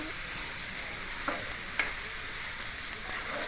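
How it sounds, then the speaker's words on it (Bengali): A pan sautéing with salt and turmeric gives a steady, quiet sizzle and hiss, broken by two brief spoon knocks partway through; close and even, with no voices. "লবণ স্বাদ অনুযায়ী হলুদ পরিমাণ মতো দিয়ে একটু কষিয়ে নিতে হবে"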